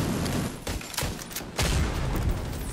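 Turret gunfire in a video game's Iron Horse raid pounds out as dense, heavy bursts of rapid shots and booms, loud and continuous throughout.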